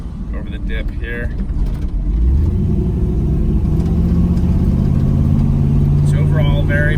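A 1980 Chevrolet Crew Cab Custom pickup with a 5.3L fuel-injected Vortec V8 drives along, its deep engine rumble rising as it accelerates, heard from inside the cab with someone talking over it.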